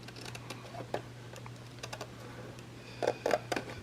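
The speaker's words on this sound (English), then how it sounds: "We're going to cut on both sides of that score line, right up to that other fold." Scissors cut paper along a score line during a paper craft project: scattered short, crisp snips with a louder cluster of cuts near the end, over a steady low hum.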